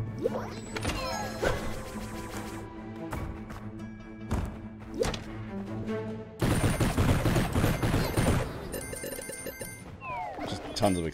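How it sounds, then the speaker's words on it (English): Rapid bursts of gunfire and booming explosions from the video game Undermine come in dense, chaotic volleys, loudest in the second half. "tons of explosions."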